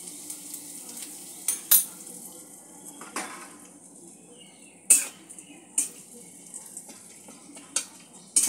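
Asafoetida fries in oil in a home kitchen, a soft, quiet sizzle broken by sharp metallic clinks and scrapes of a spatula against the pan.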